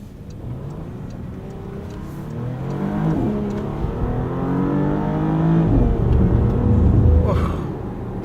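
A 2021 Porsche Panamera accelerating hard, its engine note climbing steadily through a long pull that stays loud and close from inside the cabin, with no talking.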